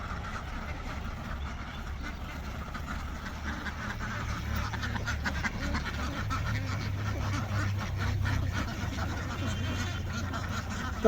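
A flock of around three hundred laying ducks on a farm keeps up a faint, continuous chorus of quacks and chatter beneath a low steady rumble, with a soft human voice mixed in.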